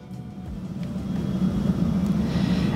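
Webasto remote-controlled parking heater motor spooling up under a Volkswagen Transporter T5.1, a close, steady droning hum with a slowly rising whir, heard alone.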